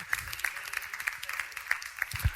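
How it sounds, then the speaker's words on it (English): Audience at a social innovation pitch event clapping for the speakers, a fairly sparse, moderate round of individual hand claps with a rhythmic patter, fairly distant. "So if we can give a round of applause to all our speakers"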